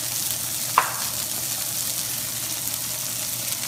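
Onion and mushrooms fry in oil in a pan, a steady, even sizzle that runs throughout with one sharp clink near the start and no talking.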